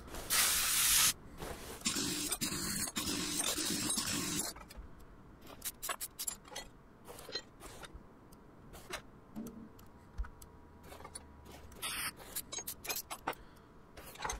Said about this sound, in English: what I'm doing is basically taking apart the brake assemblies